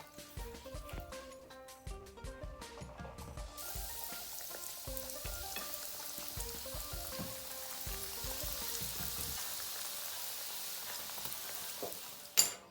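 Prawns sizzle and crackle steadily in hot oil in a frying pan, a constant spitting hiss with faint clinks of utensils early on. No voices.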